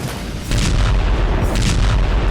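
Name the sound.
artillery fire in Russia-Ukraine war zone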